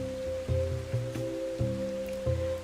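Rain from a visual novel scene, a steady soft wash of falling water heard alone under a looping, rhythmic musical background.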